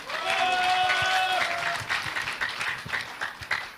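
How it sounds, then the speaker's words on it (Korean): A crowd at a party convention in Jeju applauding steadily, dense clapping that swells and then thins slightly, with faint voices underneath. "큰 박수로 맞아주시기 바랍니다."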